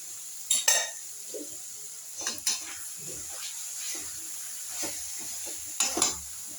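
Tomatoes go into a pan while cooking potato and spinach, bringing soft sizzling under a few sharp metallic clinks and stirring scrapes from a utensil against the pan, heard up close at an irregular rhythm.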